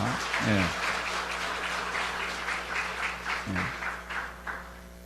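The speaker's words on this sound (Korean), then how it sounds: "격려의 박수 한번 하겠습니다." Encouraging applause from a church congregation of Sunday school children and adults, a moderate wash of clapping that rises and lingers for several seconds, with brief voices at the start and midway.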